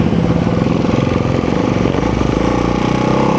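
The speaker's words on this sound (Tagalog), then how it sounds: "Ducati Hyper Motard 698 Mono RVE." A Ducati Hypermotard 698 Mono RVE motorcycle with a single-cylinder engine thumps loud and close in a fast, steady pulsing rhythm, its throaty exhaust running continuously throughout.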